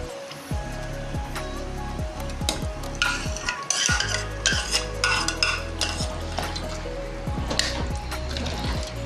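Yogurt is added to a pot of paya and stirred, giving repeated scraping spoon strokes against the pot over a steady sizzle, close and continuous with no talking.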